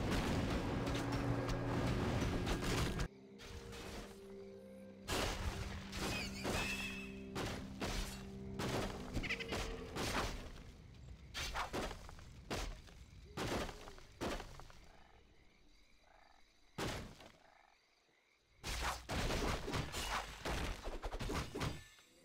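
Battle sounds from the real-time strategy game Warcraft 3 Reforged: repeated clashing impacts and bursts of combat noise in uneven clusters, fairly faint overall, with brief quiet gaps between the skirmishes.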